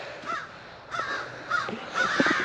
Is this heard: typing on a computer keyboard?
no